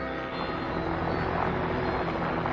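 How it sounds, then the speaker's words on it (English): Helicopter in a scene from The X-Files, a steady broadband rotor and engine roar holding at a constant level throughout, with no voices over it. "That's not a plane, that's a helicopter."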